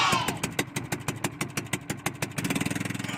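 A fisherman hand-starts a small boat engine at sea: rapid pull-start chugs build into a steady, close, loud idling putter with fast regular pulses.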